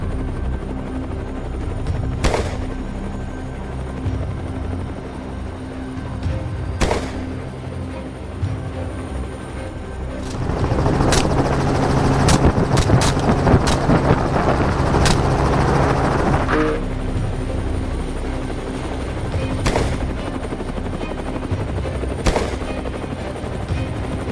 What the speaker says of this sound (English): From above, with the helicopter constantly moving